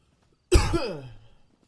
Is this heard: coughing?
yes